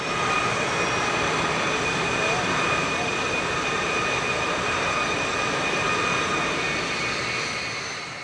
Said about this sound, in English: the Latvian Baltic Bees, flying 6 L-39 Albatross jet trainers for the first year